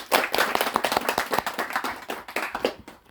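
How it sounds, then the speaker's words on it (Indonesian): Audience at a farewell evening event applauds steadily, dense overlapping handclaps filling the room for a few seconds with no speech. "Kita kasih aplaus ya."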